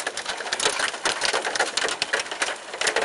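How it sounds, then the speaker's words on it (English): Pea-size hail pelts down during a severe thunderstorm, a dense continuous patter of hard small impacts with steady intensity and no voices. "It's just hailing, dude."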